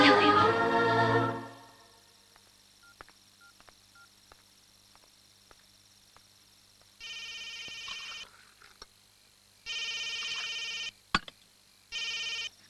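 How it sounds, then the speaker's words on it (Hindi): A mobile phone ringtone in a Hindi-dubbed action film rings in three loud, electronic bursts after someone speaks, with quiet pauses between the rings. "फोन तो उठाओ।"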